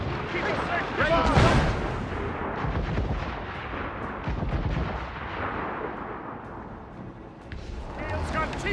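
Ship cannons firing during a naval battle in Assassin's Creed Rogue, heavy booming blasts with one big volley early on, then rumbling fire and battle noise under shouted crew voices.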